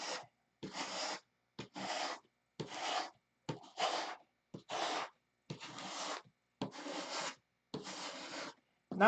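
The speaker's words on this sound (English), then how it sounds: "spend the night sanding with Spark" Rhythmic hand sanding on wood, about a dozen rasping back-and-forth strokes with short pauses between, close and steady.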